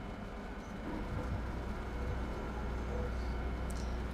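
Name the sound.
train starting to move forward in Train Sim World 5 video game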